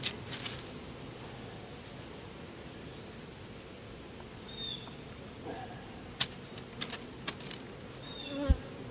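Soft, steady buzzing of honey bees hums in the background, with a few sharper clicks and knocks nearby.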